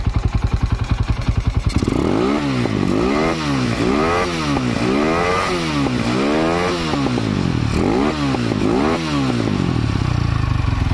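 Rusi Sigma 250cc motorcycle engine fitted with open Keihin Sudco flat slide carbs: a few idle pulses, then a run of loud, close, repeated throttle blips that rise and fall in a steady rhythm.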